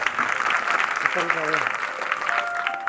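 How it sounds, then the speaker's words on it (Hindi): Audience at a Guru Ravidas religious katha in a village gathering claps loudly and continuously, with faint tonal voice fragments and crowd noise mixed into the steady applause. "क्या बात है, जोरदार तालियां।"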